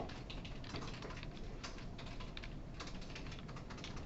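Steady, fast typing of code on a computer keyboard, the quiet key clicks running continuously and evenly throughout, with no talking.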